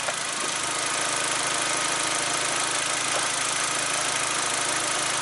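An MK4 Volkswagen Golf/Jetta/GTI engine runs at a steady idle, a loud, constant mechanical drone with a rough low rumble, heard close up and without any talking.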